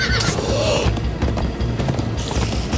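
A horse in the video game Minecraft Story Mode whinnies loudly over a dense, noisy game soundtrack, with clattering hoofbeats running steadily through the whole stretch.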